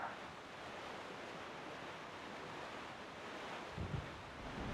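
Calm ocean waves rolling and washing steadily across the sea in The Legend of Zelda: The Wind Waker, a soft continuous surf with a gentle wind-like hiss throughout.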